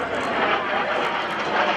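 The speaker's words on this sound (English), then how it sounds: "From the left, Crunchy in a 4-point roll." An aerobatic airplane's engine roars steadily overhead during a four-point roll at an air show, a continuous buzzing drone with a slight waver, loud and fairly close, with a voice faintly underneath.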